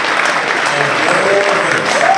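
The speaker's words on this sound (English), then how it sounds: "How about a round of applause for all of our Army football 2023" Dense, steady applause fills a banquet hall as the crowd honors the 2023 Army football award winners, sustained and close for the whole span with a faint murmur of voices mixed in.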